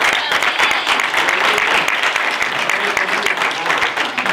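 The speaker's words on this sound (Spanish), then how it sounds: "démosle un fuerte aplauso" A church congregation breaks into steady, loud applause filling the whole space, dense clapping from many hands continuing evenly throughout.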